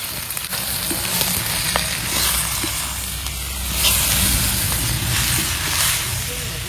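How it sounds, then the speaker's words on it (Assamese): Local chicken pieces sizzle steadily in a pan with fried onions and spices, a loud continuous hiss and crackle with occasional stirring scrapes, close up and alone without speech. "লোকেল মুৰ্গীখিনি এতিয়া বহাই দিলে এনেকে চাওক"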